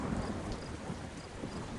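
Rain from a distant storm falls as a steady, soft wash with low rumbling underneath, heard briefly and at low level with no voices.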